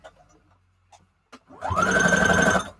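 A sewing machine stitches fabric scraps for a junk journal cover, using zigzag and straight stitches, in one close, steady whirring burst of about a second after some faint handling noises.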